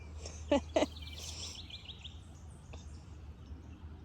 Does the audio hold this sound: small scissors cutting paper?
no